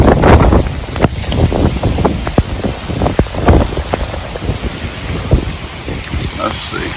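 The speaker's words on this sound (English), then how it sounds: "Can you hear the wind?" Strong hurricane wind gusts roar steadily outdoors, with rain spattering and buffeting the microphone, and broadband rushing that surges and eases in loud gusts throughout.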